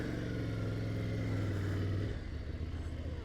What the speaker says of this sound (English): Let's get this dirt bike going.